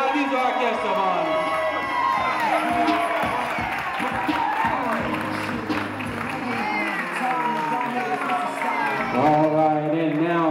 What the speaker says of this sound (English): Come on, y'all, give them a big round of applause